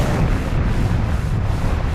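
An explosion in a Power Rangers SPD episode roars as a loud, dense, sustained blast of rumbling noise filling the whole two seconds without a pause.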